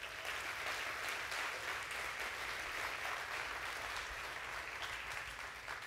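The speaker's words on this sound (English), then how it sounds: "Can I please get a round of applause for that?" Audience at a chiropractic summit breaks into steady, even applause, a continuous wash of clapping lasting several seconds with no talk over it.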